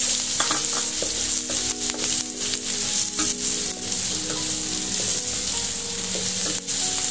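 Steady, loud sizzling of shallots frying in hot oil, with occasional clinks and stirring noises throughout.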